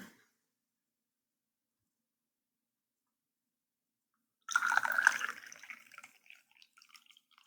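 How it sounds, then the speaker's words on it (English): Boiled hot water is poured through a small funnel into a glass, a burst of splashing and trickling that starts suddenly after a long silence, then thins to scattered drips close by. "I did boil my hot water, so it's pretty hot, and I don't want to get burned. I'm going to use a little funnel here."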